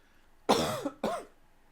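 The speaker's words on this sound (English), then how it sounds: "What's with these coughing?" Two sharp coughs close together, loud and near, from a player at a Secret Hitler board game session, the room otherwise quiet.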